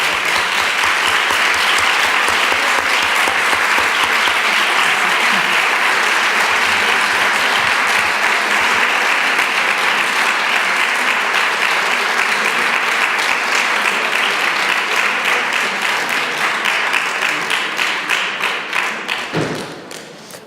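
A conference audience keeps up long, dense applause, loud and sustained for about twenty seconds before tapering off at the end.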